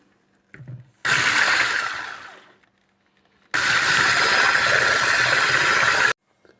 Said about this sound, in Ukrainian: Збиваємо до пишної маси